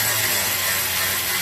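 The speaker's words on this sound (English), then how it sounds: "What we're going to do now is snug these up" A ratchet or power tool snugging bracket nuts on a Can-Am X3 Max door kit, a steady whirring, clicking mechanical drone up close, heard alone without speech.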